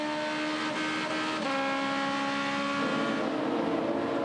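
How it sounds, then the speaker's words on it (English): Onboard an Aussie Racing Car blasting down the main straight at Hidden Valley during a 2015 race, its engine droning loud and steady, rising in pitch with two quick upshifts along the way. "Let's jump aboard with Pingle as we go for a ride down this main straight."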